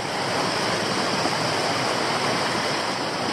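Creek water in Christmas Creek, Queensland, flowing steadily on a hike toward Larapinta Falls, a continuous broad rushing wash close by with no voices.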